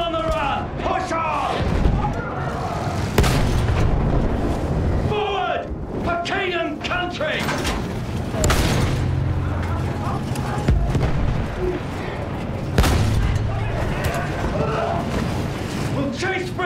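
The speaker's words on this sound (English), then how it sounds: "Use that machine gun! Blow them down!" Machine gun fire rattles across a Battlefield 1 trench battlefield, with booming artillery-like blasts and dense combat noise throughout, while voices shout over the din.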